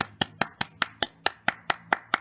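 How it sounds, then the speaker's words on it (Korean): A lone person claps hands at the start of an art class, about ten crisp, evenly spaced claps at a steady brisk rhythm, close and alone with no other voices. "나 혼자 박수 쳤나?"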